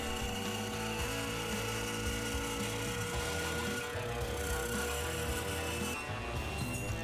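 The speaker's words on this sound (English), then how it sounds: "Then it's moving on to the bandsaw to cut the curves in the front and back of each seat pan part." A bandsaw cuts curves into wooden seat pan parts for an Adirondack chair: a steady, close, dense whirring and rasping of blade through wood that runs continuously without pause.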